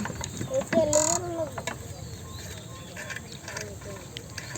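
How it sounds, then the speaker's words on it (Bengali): A pump engine used to drain a village pond for fishing is cranked but won't start, giving ratcheting mechanical pulls and clunks at close range, mixed with people talking. "মেশিন স্টার্ট দিতেছে না এখন বিকল্প পদ্ধতি কাকু অবলম্বন করবে"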